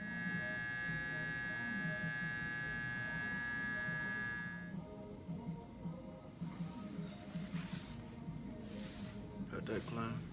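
Electric hair clippers trim a man's hairline and goatee edge at a barbershop, a steady close buzz for the first few seconds that then cuts off, leaving softer handling noises.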